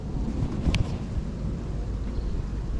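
Gusty wind buffets a microphone beside the water during a fly fishing outing, a steady low roaring rumble with a brief flutter partway through.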